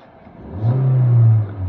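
A Hyundai Verna petrol sedan's engine is revved once, a smooth, fairly quiet rising hum that swells for about a second and then settles back toward idle, close by with no talking.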